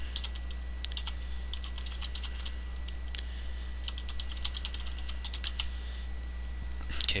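Rapid, light clicking of keys as a password is typed on a computer keyboard, irregular bursts of close keystrokes over a steady low electrical hum, with no talking.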